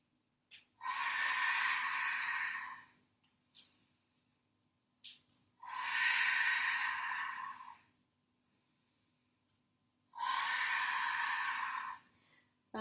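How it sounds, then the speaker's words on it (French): Three long, forceful breaths during an intermediate Pilates workout, each a close, airy rush lasting about two seconds, separated by quiet pauses. "on fait pas semblant de respirer"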